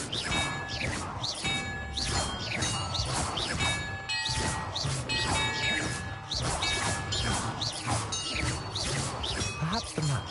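A Confringo fire spell goes off in the Hogwarts Legacy video game, followed by loud smashing and crashing. Clanks, swishes and ringing chimes layer over a dense, busy game soundscape.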